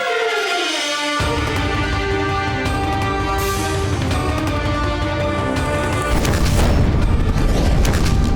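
Booming cannon fire and explosions from a Mughal siege on a fort in a Hindi TV historical battle drama about Maharana Pratap, loud and continuous over a dense music score, with the rumble growing heavier near the end.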